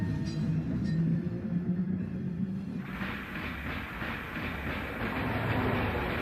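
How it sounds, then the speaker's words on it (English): An electric B-line train runs on rails, turning off 22nd Street onto Poplar Street, with a steady rumble and rhythmic clickety-clack of wheels, and a rise in hiss and rail noise partway through as it passes close by. "A B-line train turns off of 22nd Street to head down Poplar Street."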